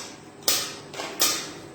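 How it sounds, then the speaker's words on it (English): A metal chain clangs twice in quick succession, each a sharp, bright clank that fades away, with near silence around them and no voices. "This is the sound of the chain."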